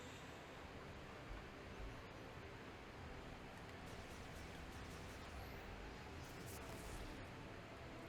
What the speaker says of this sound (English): I've got a box fan running because my room was warm.